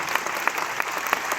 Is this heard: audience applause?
yes